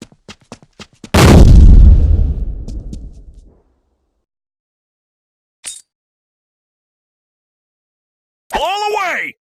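A single grenade blast in the shooter game Line of Sight booms loudly and rumbles away over about two seconds, preceded by quick clicks and followed by silence, a short sharp effect and a shouted voice.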